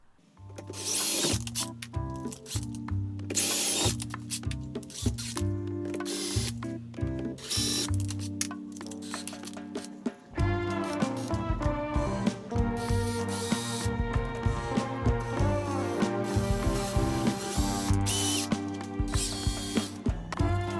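Threads being hand-tapped into an e-kart axle drive hub, with a close series of irregular ratcheting clicks and metallic ticks that grow denser and busier through the second half.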